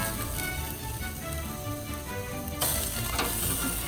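Steak sizzling over an open grill fire during a reverse sear, a steady crackling hiss throughout that turns brighter and louder partway through, with no talking.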